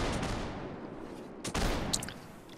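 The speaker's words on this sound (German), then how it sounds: "Die ersten Schüsse vom Nummer 13." Musket gunfire in a Mount and Blade Napoleonic Wars match: a couple of sharp shots crack out over steady battlefield noise, with fainter distant pops following.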